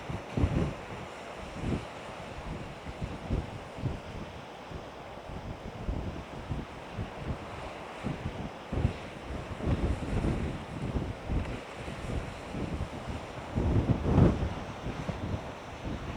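Strong wind roars steadily while an FPV drone is flown past coastal rocks, a constant buffeting rush with gusts and louder swells throughout, with no voices.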